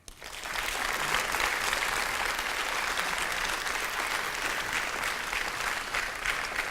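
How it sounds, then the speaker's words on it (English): Sustained applause from a conference audience fills the room, steady and dense throughout with no talk over it. "Louis Gentil, give him another warm applause"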